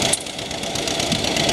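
An old John Deere pulling tractor at a sled pull holds its engine at the rev limiter, giving a loud, steady, rough knocking drone that lasts without a break.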